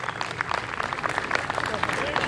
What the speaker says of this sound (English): Y'all clap real loud for Joey.